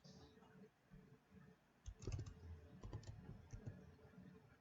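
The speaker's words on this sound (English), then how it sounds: "Now here I will type." Typing on a computer keyboard while entering a name into an Excel spreadsheet, a short quick cluster of light key clicks near the middle, close and soft, with a voice speaking quietly around it.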